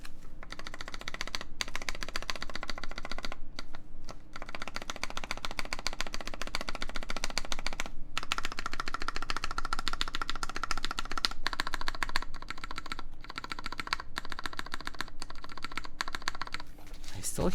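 Typing on a custom Baron Boards BP One mechanical keyboard, a steady rapid patter of close keystrokes with brief pauses and a few heavier thocks from larger keys.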